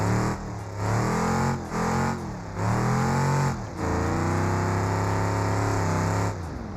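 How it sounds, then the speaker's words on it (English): A loud truck engine in BeamNG during a mud drag run roars and revs, its pitch repeatedly dropping and climbing through gear changes, dense and close throughout with no talk over it. "This truck's kind of loud."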